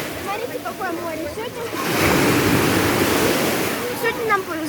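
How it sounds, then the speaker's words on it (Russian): Small Black Sea waves wash in, with one fuller surge of surf in the middle, under talk at the beginning and end. "Небольшие волны, прозрачная вода."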